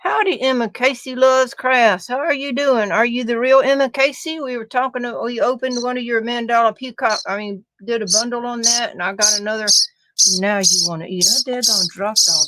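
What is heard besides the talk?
None of the usual background noises is heard.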